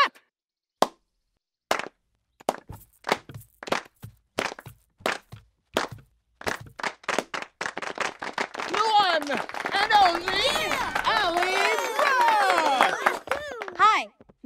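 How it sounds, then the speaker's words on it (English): Rhythmic clapping at a steady beat opens alone, then carries on beneath cheerful sung vocals for a children's Blue's Clues feelings song. "Come on, let's clap."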